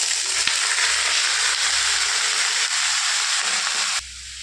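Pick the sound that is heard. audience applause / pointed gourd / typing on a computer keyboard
pointed gourd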